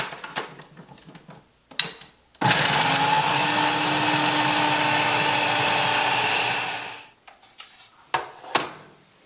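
Root vegetables are chopped and ground alone in a food processor, which runs loud and steady for about five seconds with a clattering whir. Brief clicks and handling knocks come before and after.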